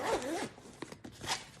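A zipper pulled shut along a cooler bag holding bottles and ice packs, one close, rasping run lasting under two seconds with no talk.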